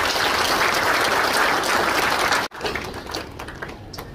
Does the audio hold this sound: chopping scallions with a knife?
no